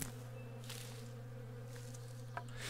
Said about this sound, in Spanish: No sé si las abejas me hagan daño